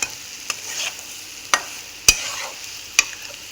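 Boiled eggs being mashed and stirred into a masala in a pan for an egg fry, a few sharp spoon scrapes and taps at irregular intervals over a faint low sizzle, with no talking.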